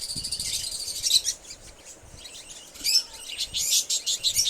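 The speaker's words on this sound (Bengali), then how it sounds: "এখন এই হাঁড়িতেই 2টো বাচ্চা বেরিয়েছে, হাতে নিয়ে আপনাদেরকে দেখাচ্ছি।" Two newly hatched bird chicks in a clay pot nest, held in the hand, giving repeated thin, high chirps in quick clusters, close and fairly soft, with no talking.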